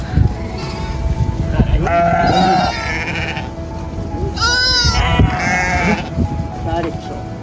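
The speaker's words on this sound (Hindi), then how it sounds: "दोबारा से भेड़ों का समंदर।" Several sheep bleat at varying pitches, some close and loud, over a busy outdoor background with people talking, on a Himalayan mountain trek at about 11,500 feet in Himachal Pradesh.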